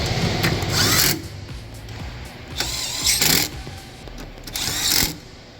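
A power tool drives three 10mm bolts securing a hood latch assembly on a Chevy Traverse or GMC Acadia, three loud whirring bursts, each about half a second, separated by quieter pauses.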